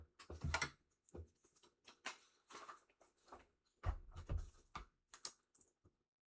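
Computer keyboard typing plays up close in irregular bursts of crisp key clicks and clacks with short pauses between words, quiet and without talk.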